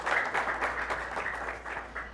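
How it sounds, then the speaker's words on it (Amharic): A children's studio audience at an African Children's Day TV quiz show claps steadily, a moderately loud, even patter of many hands that stays constant for the whole stretch. "እስቲ በደንብ አድርጋችሁ አጨብጭቡላችሁ"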